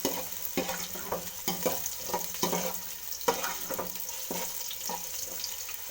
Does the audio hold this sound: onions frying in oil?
yes